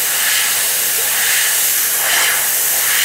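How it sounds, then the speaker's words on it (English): Airbrush spraying paint in light, dry passes over masked areas of a scale model, a steady loud airy hiss that runs unbroken and alone. "You spray dry,"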